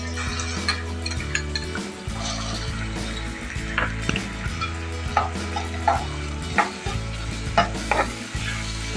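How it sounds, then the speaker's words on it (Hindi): Crushed onion frying in a pan for a stuffed tinday filling, with a steady sizzle under repeated scraping and clinking stirring strokes, fairly close and with no speech. "ट्रांसपेरेंट शेप में हमने प्याज को इसमें फ्राई करना है"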